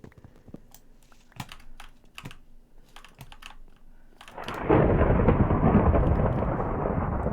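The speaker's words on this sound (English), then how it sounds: "Apparently there's a thunderstorm." Close keyboard typing clicks in a video game give way to a sudden, loud, steady roar of rain and rumbling thunder that fills the rest of the scene.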